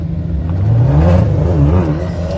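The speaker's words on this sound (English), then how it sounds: "Let's see him go out there nice and gentle in his Ferrari 599." A black Ferrari 599 HGTE pulls away on the Brands Hatch circuit at a supercar track day, its engine revving up in rising, wavering tones that swell loudly and then ease.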